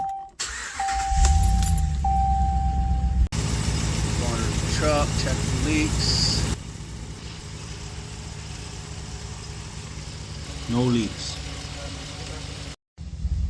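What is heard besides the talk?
Ram 1500 Classic truck engine starting and idling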